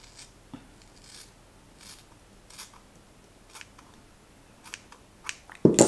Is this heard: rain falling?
no